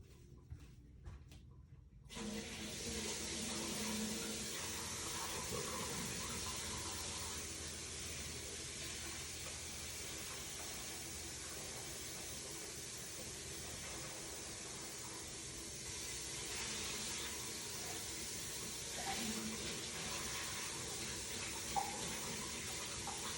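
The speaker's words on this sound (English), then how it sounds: "You want to make sure you wash your lentils really good" Tap water runs steadily into a sink for about twenty seconds while red lentils are washed, a close, even hiss with faint splashes and occasional clinks and no talking.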